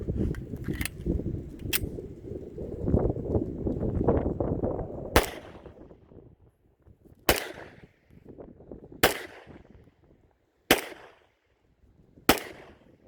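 Guns fired at a target with cast bullets during ammunition testing: after a stretch of rustling noise, five sharp, loud shots ring out one by one at steady intervals of about two seconds.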